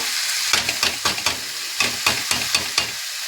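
Potatoes and eggplant frying in a pan for a fish-oil curry: a steady hiss broken by a series of sharp stirring scrapes and clatters, close and fairly loud, with no talk.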